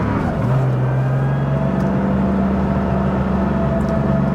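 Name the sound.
1980 Porsche 911 SC Weissach driving and revving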